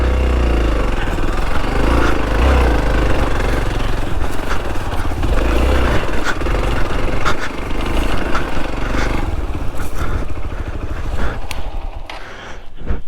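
Hero Xpulse 200 4V motorcycle engine revving loud and close on a rocky off-road trail at a water crossing, a continuous rough drone with rising and falling throttle and scraping, fading slightly near the end.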